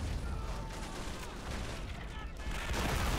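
Video-game gunfire from the RobZ Realism Mod: dense, continuous machine-gun and rifle fire in a loud, crowded battle soundscape, sustained throughout without pause.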